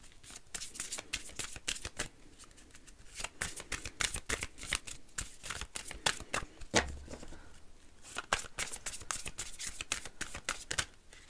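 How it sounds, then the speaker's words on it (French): Oracle cards being shuffled by hand ahead of a tarot card draw, a dense run of quick crisp riffling flicks and slaps that continues steadily and softly through the whole stretch, with no talking over it. "Je vais donc prendre l'oracle Tchécoli pour la petite carte conseil qui clôturera ce tirage."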